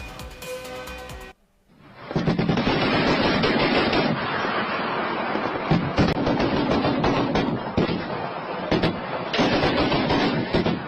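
Dense, continuous rumbling blasts and crackling bursts of heavy artillery shelling and gunfire along the India–Pakistan border near Ferozepur, loud and sustained after a brief quiet start.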